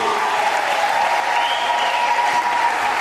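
Church congregation applauding in praise during a sermon, a dense, steady wash of clapping that fills the whole moment, with a faint high vocal tone running through it that may be ululation.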